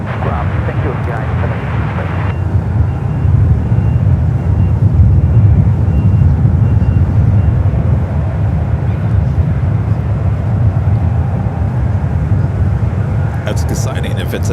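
An Asiana Airbus A380 at San Francisco International airport produces a continuous heavy jet roar with deep rumble, loud and steady across the whole stretch, slightly swelling in the middle, with no voices.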